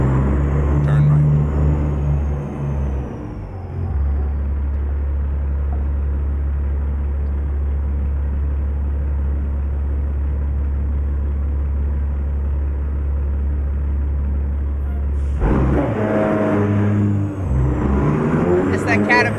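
A Caterpillar-engined truck in American Truck Simulator, its deep steady drone cruising loud and close, then a surge of revving near the end, with a voice talking over it.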